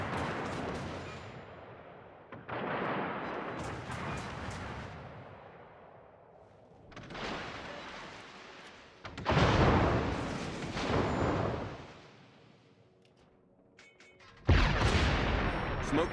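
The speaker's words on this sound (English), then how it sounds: "Concentrate fire on the enemy warship." Warship artillery in the World of Warships game, clan battle at tier six: heavy booming salvos roll out in several long bursts separated by quieter gaps, with a loud final volley.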